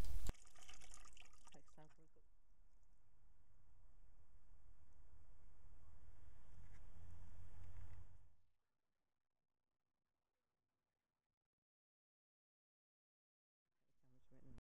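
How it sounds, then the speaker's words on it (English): The fill from a prehistoric copper-smelting pit is washed in a pan of water, a steady sloshing and trickling for several seconds that stops abruptly, followed by near silence. "The remaining fill of the pit is washed to check for smaller fragments of copper metal using a simple panning"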